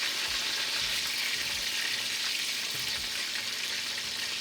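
Slices of coconut-milk bammy frying in a pan over low heat, giving a steady, even sizzle that stays close and continuous throughout, with a faint low hum underneath and no talking.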